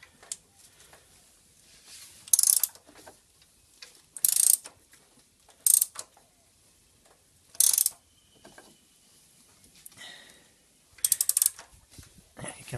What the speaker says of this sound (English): we put our socket back on and we just turn it by hand with a ratchet